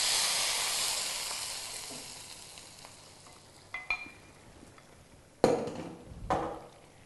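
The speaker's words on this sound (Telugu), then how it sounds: "జస్ట్ మనకు కొంచెం బ్రౌన్ కలర్ వచ్చేంత వరకు దీన్ని ఇలా ఫ్రై చేసుకొని ఆ స్టవ్ ఆపేస్తే మనకు పోపు రెడీ అవుతుంది" Tempering spices sizzle loudly in hot oil for a cabbage and toor dal curry, the hiss fading steadily over several seconds before a few sharp clanks of stirring near the end; no one speaks.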